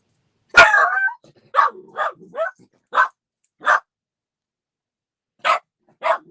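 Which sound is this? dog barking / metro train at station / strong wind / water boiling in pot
dog barking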